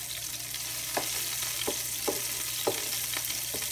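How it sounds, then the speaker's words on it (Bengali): Canadian fish pieces fry in oil in a pan, a steady close sizzle punctuated by several sharp spits and pops at irregular intervals, with no talking. "মাছটা ভেঙে না যায় সেই ওয়েতে আমি ভাজার চেষ্টা করব"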